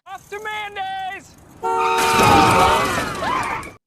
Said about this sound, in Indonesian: Saat Dapri terlalu semangat untuk mengejar cintanya, ia lalai lalu menabrak mobil yang melintas di hadapannya.